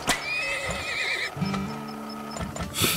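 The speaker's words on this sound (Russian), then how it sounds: "хотя бы одна лошадка, едь продавай" A horse in the video game Turmoil lets out a loud, wavering whinny followed by a few clip-clop hoof sounds and another brief call, all close and clear without talk.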